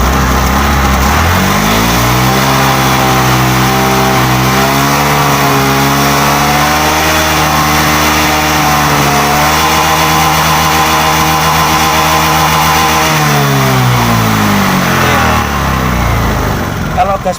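A fuel-injected motorcycle with a stutter at low revs is revved at high throttle, its loud, steady engine drone climbing and holding in pitch for many seconds before dropping back near the end.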